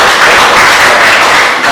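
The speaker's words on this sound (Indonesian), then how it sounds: "Tepuk tangan untuk kalian semua." A classroom of students claps together after solving math problems, a brief dense burst of loud applause close by.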